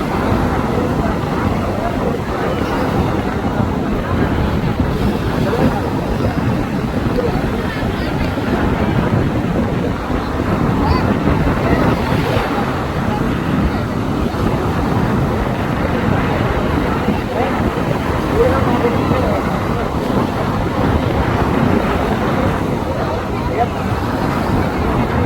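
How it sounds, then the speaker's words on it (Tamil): A large boat's engine drones loudly and continuously, a dense low rumble with wind and some voices mixed in, steady for the whole stretch. "இன்ஜினோட சத்தம் என்ன பெரிய சத்தம்."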